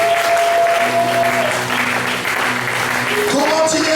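A church congregation breaks into loud, sustained applause that runs the whole length, with a voice speaking over it briefly and musical tones entering near the end.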